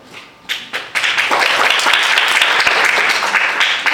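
An audience breaks into applause at a meeting: a couple of isolated claps first, then the full crowd joins in a loud, dense, sustained round of clapping that carries on to the end.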